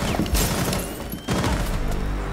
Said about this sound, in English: what the fuck was that explosion?